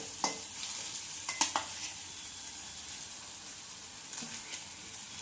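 Mashed potato stirred and fried in a pan for Nashik pav vada filling: low sizzling hiss beneath a handful of spoon clatters and scrapes, clustered early then sparse, close and fairly quiet with no speech.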